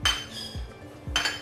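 Butter and nuts stirred in a pan, giving three separate clinking scrapes of a utensil against cookware in a quiet kitchen with no talking.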